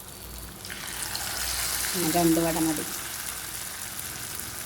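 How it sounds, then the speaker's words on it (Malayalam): Vadas frying in hot oil in a small pan give a steady bubbling sizzle, which swells briefly midway as a voice speaks over it. "ഓരോ വടയായിട്ട് ഇട്ടെടുക്കാം."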